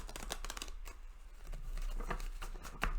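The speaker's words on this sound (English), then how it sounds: "Let's do the flashy shuffle." Several decks of tarot cards being riffled in a showy shuffle, giving bursts of crisp flicking and patter that come close and fairly loud over a low background hum.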